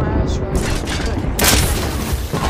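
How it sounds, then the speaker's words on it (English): Airstrike explosions from Apex Legends rumble as booming low blasts with a sharper burst partway through, dense and loud, while a voice talks over them. "I threw an airstrike right on top of them."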